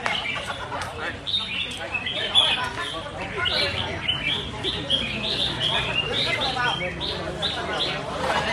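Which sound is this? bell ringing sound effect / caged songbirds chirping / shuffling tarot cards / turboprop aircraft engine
caged songbirds chirping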